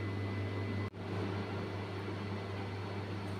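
A grinder steadily whirs as soaked mustard seeds and green chillies are ground into paste with a little water and salt. The motor hum is continuous and even, with one brief dip partway through.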